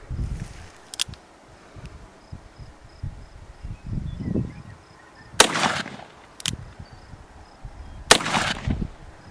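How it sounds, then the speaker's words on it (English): .44 Magnum revolver firing 300-grain hard cast lead bullets into a dirt barricade outdoors: a few sharp, loud cracks spaced seconds apart over rustling and insect chirps. "There we go, 2 more rounds of 44 Magnum into the Dirt Barricade."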